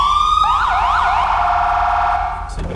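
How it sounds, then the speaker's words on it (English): Emergency vehicle sirens in the FiveM video game, a loud, close electronic wail sweeping up and down and then settling into a steady tone before cutting off near the end. "so you've got your sirens"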